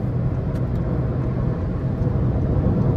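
A 2023 Volkswagen Virtus 170 TSI automatic accelerates hard to overtake on a highway, heard from inside as a loud, steady low engine and road drone.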